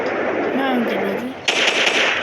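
Gunfire in the Free Fire battle royale game, a quick burst of shots layered over game sounds and a brief tonal cue, ending in a louder crackling volley.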